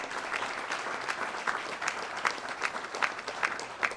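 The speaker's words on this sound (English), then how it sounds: "You ought to clap on this." An audience claps steadily throughout, a dense, even patter of many hands at moderate distance.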